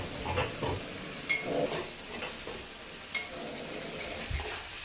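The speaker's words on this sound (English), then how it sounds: "I stir fry the beef in 2 batches to ensure that they are adequately seared on the wok" Beef strips sear and sizzle in a hot wok, a steady bright frying hiss running throughout with scraping stirs and clinks of the utensil against the pan, close and alone without talk.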